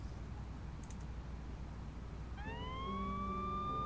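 A police siren from the video game Lucid9 rises in a sudden upward wail about two-thirds of the way through, holding loud and steady after near-quiet background hum and a few faint clicks.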